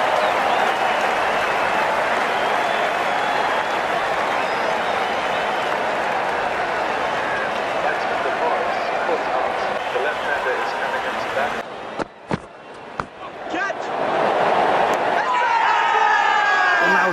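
A cricket crowd at a India versus New Zealand Test match applauds and cheers after a catch, a loud, continuous roar of clapping that breaks off briefly near the end as commentary resumes.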